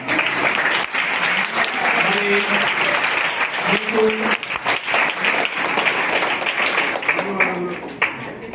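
Sustained audience applause at a retirement function, loud dense clapping from a crowd that keeps going throughout, with voices speaking over it at moments.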